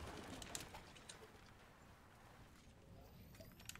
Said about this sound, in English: I swear I heard a bird.